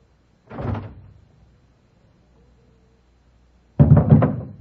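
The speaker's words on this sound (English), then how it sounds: "Kendall, we'll open the door" Door in an old-time radio drama, two rough wooden rattling creaks, one brief near the start and a louder one after a quiet pause, with no voices.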